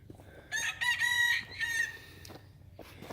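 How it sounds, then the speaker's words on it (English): Roosters crow in a garden setting, a loud nearby cock-a-doodle-doo lasting about a second and a half with a fainter crow afterward, over quiet background. "the roosters are crowing."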